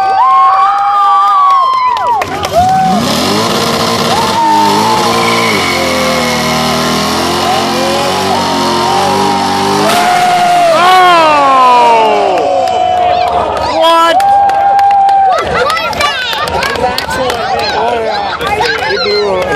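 Loud crowd cheering and shouting rises at a burnout competition for a 1989 Camaro, mixed with a revving, screaming engine and tire noise that holds steady throughout.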